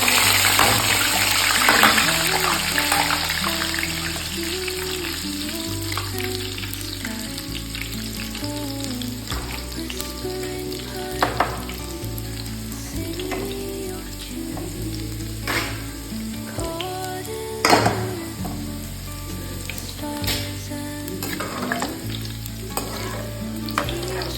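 Garlic frying in hot oil for a tadka, with the pan close by. A loud, continuous sizzle carries gentle stirring scrapes and a couple of brief clinks, with no talk.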